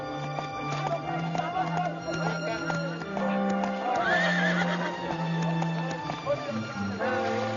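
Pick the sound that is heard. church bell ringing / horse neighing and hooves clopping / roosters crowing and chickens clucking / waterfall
horse neighing and hooves clopping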